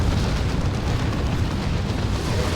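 Dense, continuous explosions from a Warhammer 40,000: Dawn of War 2 3v3 battle against Ork forces, a loud, unbroken roar of overlapping blasts and rumbling impacts with no clear gaps.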